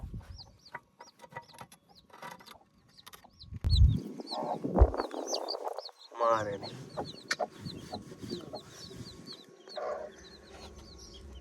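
A hen with fourteen chicks clucks softly amid their high chirping, with scattered rustling and a few louder clucks in the middle.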